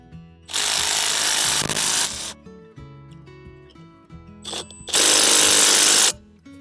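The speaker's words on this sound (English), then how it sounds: "We can finish tightening these bolts." A power tool tightens mailbox bolts in two loud, steady whirring bursts of a second or more each, separated by quieter clicks and handling noise.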